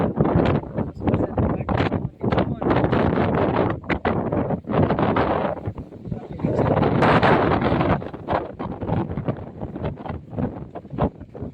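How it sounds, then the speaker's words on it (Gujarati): Strong gusting wind buffets the microphone in loud, rough bursts, rising and falling over several seconds with a heavier roar near the middle. "બહુ જ પવન છે અત્યારે।"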